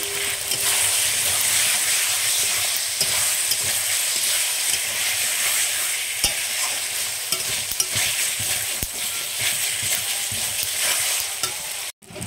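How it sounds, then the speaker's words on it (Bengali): Chicken meat and fried potatoes sauté in a pan, giving a loud, continuous sizzle with occasional stirring scrapes and no talk. "তো বন্ধুরা দেখো মাংসটা আমি সুন্দর করে কষিয়ে নিচ্ছি, তারপরে দিয়ে দিচ্ছি আমি ভাজি আলু"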